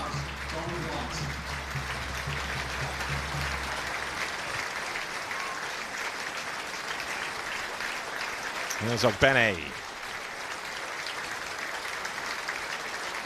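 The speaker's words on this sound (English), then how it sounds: "Applause ringing out around the stadium here in tribute to Don White" Stadium crowd at a Bromley v Ipswich Town League Cup match applauding in tribute to a lifelong fan, a broad steady wash of clapping throughout, with a brief commentator voice breaking in near the middle.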